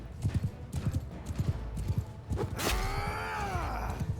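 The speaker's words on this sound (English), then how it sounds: "I do see them horses coming" Horses' hooves clip-clop in a repeated galloping rhythm on the battlefield of Mount & Blade II Bannerlord, close and steady. Partway through, a horse's whinny rises and trails off over the continuing hoofbeats.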